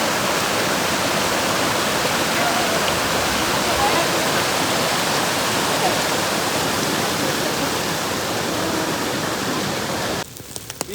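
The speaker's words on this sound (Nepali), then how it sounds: "खोला" A river stream rushes loudly and steadily up close as a dense, unbroken wash of flowing water, cutting off abruptly near the end.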